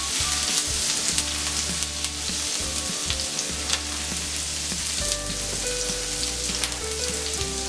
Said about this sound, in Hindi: तेल गरम हो गया है, इसमें चॉप किया हुआ अदरक और लहसुन डालेंगे इसे थोड़ा सेक लेंगे।